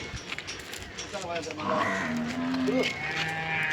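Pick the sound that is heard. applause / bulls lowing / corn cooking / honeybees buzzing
bulls lowing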